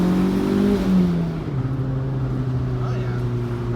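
Toyota AW11 MR2 with a swapped 3SGTE turbo engine pulling hard in second gear from about 3,000 RPM, a loud rising engine note that drops as the gear changes, then a steady drone.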